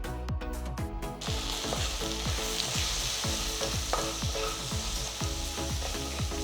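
Capsicum sizzles loudly in a pan with turmeric and salt while a utensil scrapes and stirs it in a quick, regular rhythm of knocks, the frying hiss continuous underneath with no talking.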